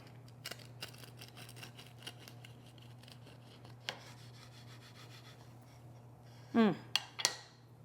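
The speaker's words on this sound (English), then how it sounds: "this is more like a biscuit bread, so we can go ahead and slice right on into it" A knife saws into a freshly baked yogurt biscuit bread with soft scattered rasping strokes, quiet over a low hum, ending in a couple of sharper, louder cuts near the close.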